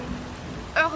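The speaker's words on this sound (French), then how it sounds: "Les gouttes de pluie effacent toutes les empreintes." Cartoon rain falls in a steady soft patter, with a brighter burst of drops near the end of the short moment.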